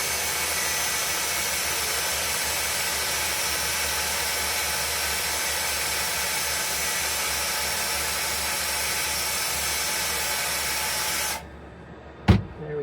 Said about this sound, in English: I'm just going to sand this quick.